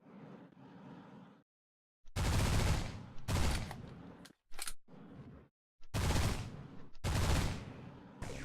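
Bursts of ship weapons fire in the space video game Destination Sol, loud clustered volleys of rapid blasts repeating in groups with brief gaps between them, with no talking.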